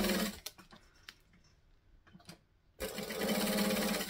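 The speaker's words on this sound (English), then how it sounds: "we're going to go down and then get the next one. And I'm going to stitch it right size up because it's prettier." A sewing machine stitching fabric for a Beachcomber project, running in a loud steady whir, pausing for a stretch of quiet handling clicks, then starting again in a sustained even buzz.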